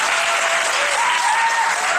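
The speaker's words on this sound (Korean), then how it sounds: "박수하죠." A church youth-service congregation applauds, steady loud clapping from many hands filling the whole moment without a break.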